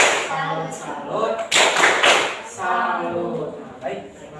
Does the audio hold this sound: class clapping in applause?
yes